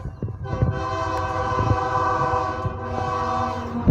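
A train horn blares long and loud, held steadily for several seconds over the rumble of a passing train, with a brief break partway through before sounding again.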